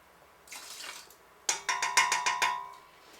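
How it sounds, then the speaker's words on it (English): Apple cider vinegar poured for canning pear preserves, a brief soft trickle followed by a quick series of bright ringing glugs and clinks against a jar, close and fairly quiet. "now we're going to do 1/4 cup of the apple cider vinegar into here"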